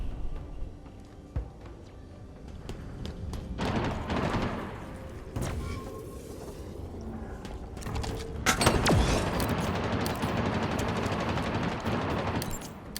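Bursts of weapon fire from a Brute enemy in Halo Infinite's Conservatory mission, sharp repeated shots and thumping impacts coming in irregular clusters amid game sounds, with brief talk over it.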